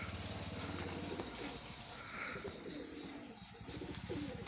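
Tired pigeons settling at dusk around the evening prayer hour give faint, soft cooing over a low background hum. The birds sound distant and quiet.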